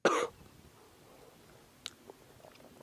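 A person coughing once, close and loud at the start, then quiet room sound with a few faint clicks and small throat noises.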